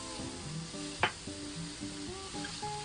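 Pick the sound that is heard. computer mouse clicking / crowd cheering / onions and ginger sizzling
onions and ginger sizzling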